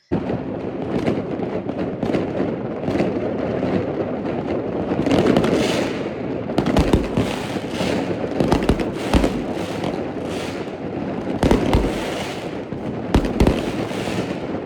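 Fireworks go off outside in a dense run of sharp bangs and crackling bursts over a steady rumbling background, several louder cracks standing out, with no voices.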